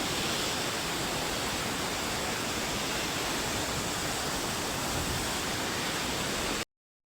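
Floodwater of the swollen Saraswati river at Prachi Tirth rushes past an ancient temple's steps, a loud, steady broadband roar filling the whole stretch without pause before cutting off abruptly.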